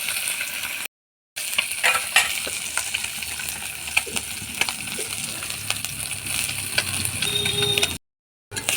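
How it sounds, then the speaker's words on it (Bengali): Small chuno fish frying in hot salted oil, a continuous hiss and crackle with occasional utensil clicks, close and fairly even in level, broken by two brief silent gaps. "চুনো মাছগুলো ভাজা হয়ে গেছে"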